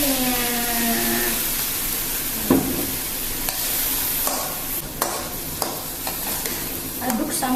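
Potato croquette filling with milk, pepper, garlic powder and stock is stirred in a pan, giving repeated close scraping strokes over a steady sizzle, with no talking.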